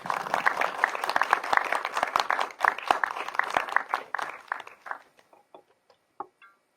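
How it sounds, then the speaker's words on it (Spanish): A live audience at a scientific monologue event in Peru claps warmly for a speaker, a dense burst of applause that thins into scattered claps and dies away to a few last isolated ones. "a quien solicito recibamos con un caluroso aplauso"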